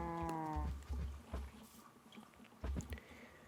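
A cow moos once in Minecraft, a short harmonic low call at the start, followed by soft thuds and quiet game ambience.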